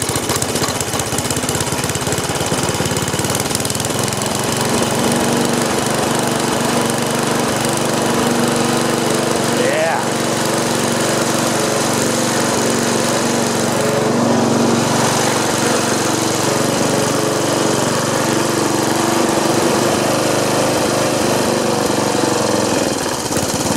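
A McLane reel mower's small engine runs continuously and loudly close by, a rough rattling chug with knocking, steady throughout without talk.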